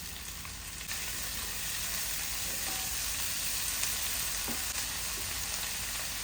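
Onion and tomatoes frying in a pan for a light chicken curry, a steady close sizzle running continuously with faint stirring clicks and no voices.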